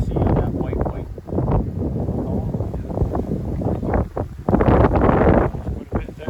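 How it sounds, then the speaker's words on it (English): Wind buffets the microphone in loud, rumbling gusts during an outdoor beehive inspection, with low roaring bursts and people talking underneath. "That is very windy."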